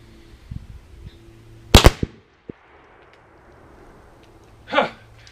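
A rifle loaded with 50 grains of powder behind a 245 grain bullet fires through a chronograph in a close, sharp doubled crack, followed by a smaller click and a later softer burst, with faint talk early on.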